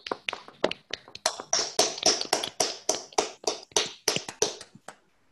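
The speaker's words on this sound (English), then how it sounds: "Let's unmute and give an applause." Scattered hand claps from a small online audience after a physics lecture, a dozen or so sharp, uneven claps spread over several seconds, fairly close and dry, then silence.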